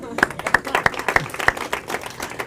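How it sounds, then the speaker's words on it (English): A small audience applauds after a speaker is introduced at a talk, with a handful of distinct, sharp claps spaced out over a thin, scattered clapping texture and some background voices. "let's give Curtis a round of applause"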